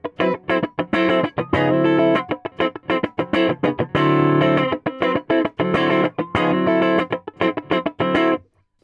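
Electric guitar through a compression pedal plays punchy, funky chord rhythms with dense muted strums and sustained stabs, loud and upfront, ending abruptly.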